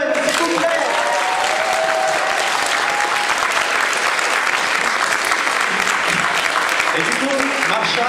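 An audience at a Doctor Who special-edition fan convention applauds for Marsha Van Boven, a dense, loud, sustained burst of clapping lasting the whole stretch, with a few faint voices mixed in.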